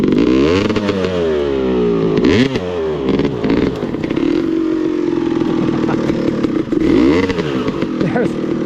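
A dirt bike engine revs loudly and roughly on snow and ice, its pitch climbing and falling in repeated surges close by, with someone talking over it.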